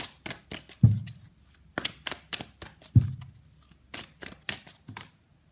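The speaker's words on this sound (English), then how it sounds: "So let's pull some cards from universe where this connection is headed in near future." Tarot cards are shuffled and pulled by hand in quick, crisp riffling flicks and taps, close and dry, with two louder thumps as the deck is set down.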